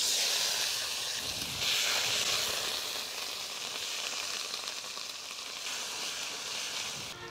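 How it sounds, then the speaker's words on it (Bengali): Bay leaf, cumin and onion paste sizzle in hot oil left over from frying catfish, a continuous close hiss that carries on steadily without talk. "মশলাগুলো একটু ভেজে নিব।"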